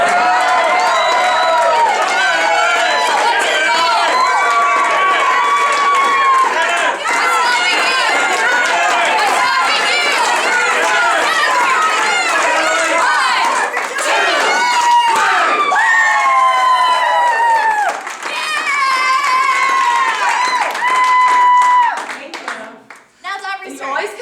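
A group of people cheering and yelling together to energize a teammate during a team-building activity, a loud continuous wall of excited overlapping shouts and whoops up close that lasts throughout before cutting out near the end.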